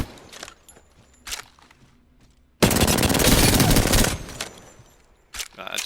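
Sustained automatic gunfire from an Apex Legends match on PS4, a loud dense burst of rapid shots lasting over a second, framed by quieter scattered shots, clicks and footsteps before and after.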